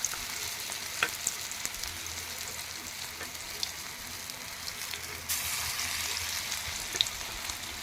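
Masoor dal fritters fry in hot oil in a wok, giving a steady hiss of sizzling with occasional sharper pops and a louder rush as more batter goes in.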